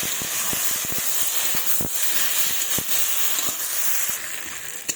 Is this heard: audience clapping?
no